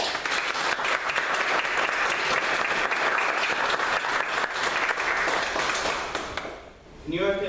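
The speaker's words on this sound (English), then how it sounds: "can everyone please give her a round of applause" An audience at a talk on Common Core in Nassau County, New York gives a speaker a loud, sustained round of applause, dense clapping that fills nearly seven seconds before fading as a voice begins.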